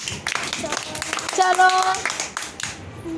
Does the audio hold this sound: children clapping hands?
yes